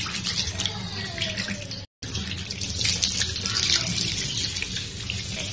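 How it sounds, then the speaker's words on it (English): Tap water runs steadily from a faucet and splashes down a sink drain, a constant close-up hiss and gurgle with a brief cut in the middle, with no talking. "So then it just goes straight down the drain because we don't need the cold water."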